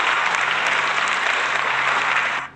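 Steady, dense applause from many hands, loud and continuous for a couple of seconds before cutting off abruptly at the end.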